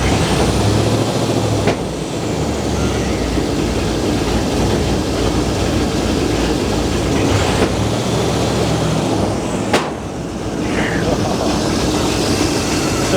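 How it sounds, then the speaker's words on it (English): A first-generation big block V8 misfiring and not firing on all cylinders, with no throttle response, idles with a loud, uneven rumble that runs steadily throughout with no talk over it. "We're still not firing on all cylinders."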